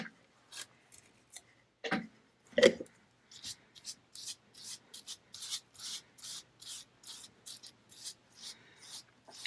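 A sponge dabs and rubs a coating across a holiday card, giving a steady run of short, soft scuffing strokes at close range, with a couple of louder knocks early on and no talk.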